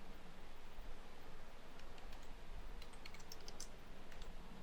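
Faint, quick keystrokes tap on a computer keyboard as an email ID is typed, scattered clicks over a soft background hiss.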